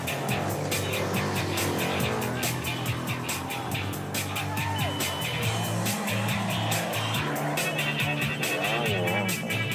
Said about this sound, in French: une poussière rendant la visibilité difficile, d'autant que les voitures arrivent